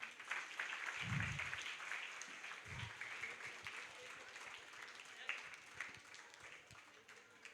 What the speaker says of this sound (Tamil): சஜி வர்கீஸ் அங்கிளை நம்ம கைத்தட்டி வரவேற்கலாமா?